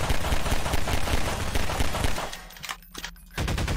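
Rapid automatic gunfire in the video game Monster Chase, based on Five Nights at Freddy's, as a dense, loud burst of shots that briefly drops out and then resumes, with no talking.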